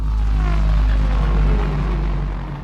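A downer riser from Heavyocity's Dystopia library gives a deep, rumbling swell with a tone that slides downward, loud and dense, as part of a cinematic electronic track. It eases off slightly toward the end.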